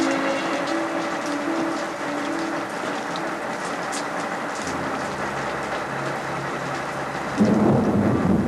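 Heavy pouring rain hisses steadily at night while thunder rumbles low underneath, swelling into a louder roll near the end.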